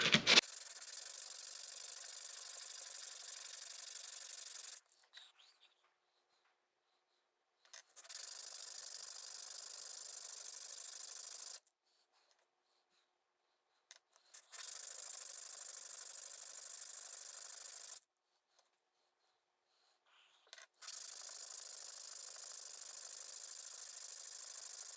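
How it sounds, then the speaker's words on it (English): Hand sanding a teak inlay ring: steady, hissing rubbing strokes in four long passes of several seconds each, separated by quiet pauses, close and fairly soft. "Alright, hand sanding."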